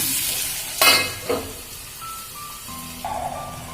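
A capsicum rice mixture fries in a pan with a constant sizzle, marked by two quick stirring scrapes early on and a low steady hiss afterward.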